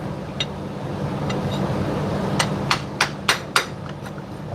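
A hammer taps a CV axle into place on a Toyota Corolla: a few light taps, then about five sharper metallic knocks in a steady rhythm over low background noise.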